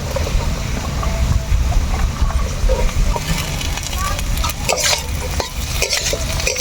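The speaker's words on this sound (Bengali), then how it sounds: "ভালো করে ভাজিয়ে নেওয়া হবে আমার বিনস আর গাজর হচ্ছে ভাজা হয়ে গেলে এখন দিব হচ্ছে বাঁধাকপি" Beans, carrots and cabbage stir-fried in a pan, with a continuous sizzle and repeated scraping of a spatula, loud and close.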